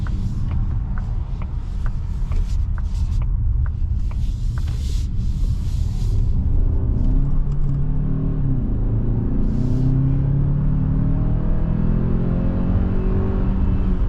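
A 2027 Kia Telluride hybrid SUV drives along with a steady low engine and road rumble, continuous and close, a few faint clicks early on and no talking.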